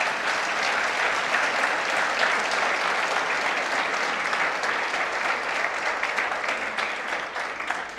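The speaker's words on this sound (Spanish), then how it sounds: "Denle ese aplauso a Jesús." Sustained, dense applause from a church congregation fills the room evenly, loud and steady throughout with no speech, easing slightly only at the very end.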